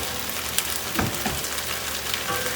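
Tofu and broccoli stir fry sizzles steadily in a pan, a soft continuous hiss with a few light clicks and scrapes, moderately quiet and close with no talking.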